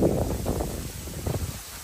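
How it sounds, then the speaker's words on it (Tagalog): Strong wind gusting and buffeting the microphone in rough, uneven surges, with a low rumbling roar and faint rustling of swaying bamboo, on the beach at Pundaquit, Zambales, Philippines. "Grabe ang lakas ng hangin, oh."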